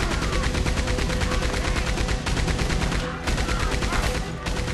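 Rapid, continuous gunfire in the Red Dead Redemption 2 video game, loud dense bursts of shots fired into woodland, with brief gaps between volleys.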